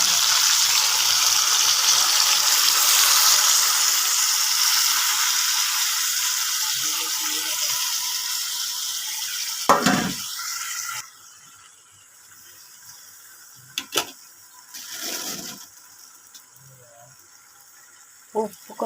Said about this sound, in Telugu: టమాటా ముక్కలు వేసుకుంటున్నాం.